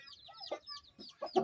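Chicks in a small backyard pen, fed boiled egg that morning, give a few short, close clucks and peeps in quick uneven bursts, with soft pauses between them.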